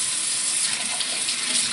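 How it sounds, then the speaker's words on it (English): Cold water runs steadily from a kitchen tap over freshly churned butter, a continuous loud hiss and splash with no pauses and no voices. "I'm gonna turn the cold water on."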